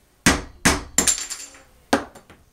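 A hammer strikes the cap on the back of a Purex Pinnacle pool pump in four sharp, ringing metallic knocks, the first two close together, then a short pause before the last.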